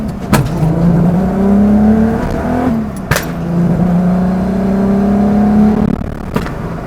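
Fuel pump whirring at the rear of a custom 1978 Volkswagen Scirocco with a VR6 swap, a steady hum under a running engine inside the cabin, interrupted by a couple of sharp clicks.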